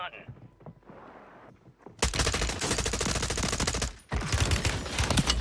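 Rapid automatic gunfire rattles in the Warzone video game, with an M4A1 rifle in play. Loud, dense bursts start after a quieter stretch of background sound and talk, pause briefly, then resume.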